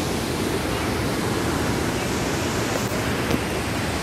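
A little-known waterfall in dense forest between Rajdari and Deodari roars steadily. The water gives a loud, close, unbroken rush with no clear voices over it.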